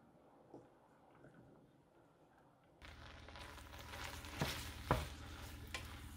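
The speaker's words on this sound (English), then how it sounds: "you're going to want to stay close by and keep stirring because you don't want your noodles to stick" Macaroni noodles cooking in milk in a pot and being stirred: quiet at first, then a steady simmering hiss with several soft scraping stirs growing louder toward the end.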